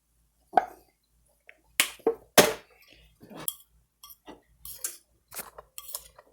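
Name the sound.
sausage added and mixed in a cast iron pan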